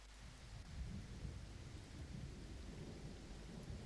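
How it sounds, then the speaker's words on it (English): Storm sound effect in music production software, with thunder and rain: a low, rolling rumble over a steady wash of rainfall, faint and even throughout with no voices. "but I want the bit where the thunder is"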